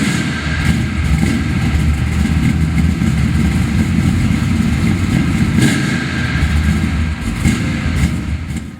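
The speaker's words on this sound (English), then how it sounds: "What motivates this Corvette is a 400 cubic inch V8, professionally built and tuned" A professionally built, high-compression 400 cubic inch V8 in a Corvette, tuned in NASCAR Winston Cup style, runs with a loud, steady, close-up rumble that holds throughout.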